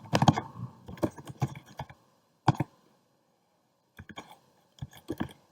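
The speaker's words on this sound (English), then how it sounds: "in the third cell I'm going to type unit price" Quick bursts of computer keyboard typing while filling invoice table cells, clustered clicks separated by short pauses, close and clear with no talking.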